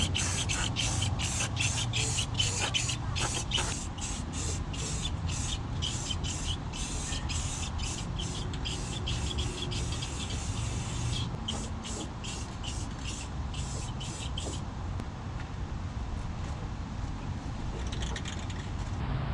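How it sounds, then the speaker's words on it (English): Rusty Ford F150 step bars spray painted with black epoxy paint, a close, steady hiss broken by rapid repeated bursts as the trigger is pulsed, with continuous spraying in between. "we're gonna paint it with black. I think it's black epoxy paint."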